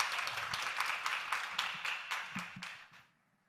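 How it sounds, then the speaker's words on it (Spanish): Audience applause at a digital health CEO panel in Colombia, a dense wash of clapping with a few sharper claps that fades out near the end. "Un aplauso."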